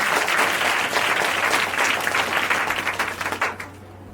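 Loud, dense applause from a student audience at a motivational speech event in India, many hands clapping together over a low steady hum, swelling briefly and then trailing off at the end.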